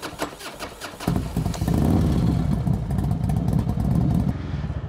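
A Honda Forza 300 scooter engine cranks with a rapid ticking starter, catches into a loud, steady, close-up running note for a few seconds, then cuts out abruptly.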